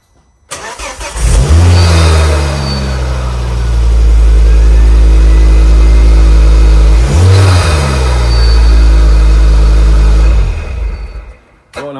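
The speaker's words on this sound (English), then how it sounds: "the car's cold, isn't it? So I couldn't really give it much of a rev" A cold Ford Focus ST225 fitted with a Wisbech induction kit starts up and revs loudly close by, a deep five-cylinder roar that swells, dips briefly, rises again and then cuts off.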